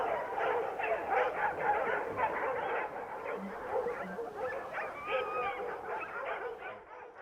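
A pack of hunting dogs bays and barks continuously at a wounded wild boar during a Spanish montería, many overlapping voices at middle distance with yips and whines mixed in.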